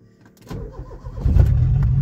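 A Fiat Tempra Stile 2.0 8V turbo with a large intercooler cranks and catches, then settles into a steady, loud rumbling idle close by.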